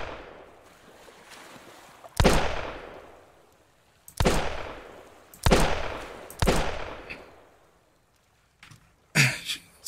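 Scrap pistol shots in the Sunkenland video game: about five sharp, loud cracks spaced unevenly, each with a short fading tail, over a quiet background.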